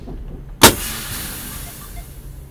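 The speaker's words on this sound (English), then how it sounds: "Air brakes." Sharp hiss of vehicle air brakes releasing, a single loud burst of air that stands out over steady road and engine rumble, then fades into continuing background noise.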